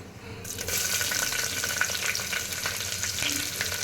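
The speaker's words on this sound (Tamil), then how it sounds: "நல்லா நீட்டு வாக்கில் வெங்காயம் அரிஞ்சு வச்சுருக்கேன். 2 வெங்காயம் அது போடுறேன்." Two long-sliced onions dropped into hot oil for vegetable kurma, a sudden loud burst of sizzling after brief quiet that keeps up as a steady, dense crackle with occasional stirring.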